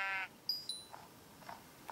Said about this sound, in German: Na komm, Schaf.